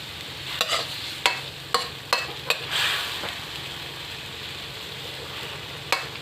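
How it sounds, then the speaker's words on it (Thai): Thai holy basil stir-fry (pad kaprao) sizzling steadily in a pan, with a few sharp scrapes of a spatula against the metal spaced through the frying. "ผัดกะเพราพี่น้อง"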